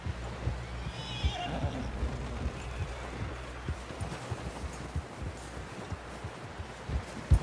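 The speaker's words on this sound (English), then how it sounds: "Someone help John down off this horse." A horse in the Red Dead Redemption 2 video game gives a high whinny early on while its hooves clip-clop steadily through the whole stretch against a dense, rustling background.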